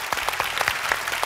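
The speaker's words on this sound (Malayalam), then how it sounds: "പ്രത്യേക കൈയടി എല്ലാവരും." A stage audience at a televised winners' gathering gives a brief round of clapping, a dense burst of many hands heard from a short distance.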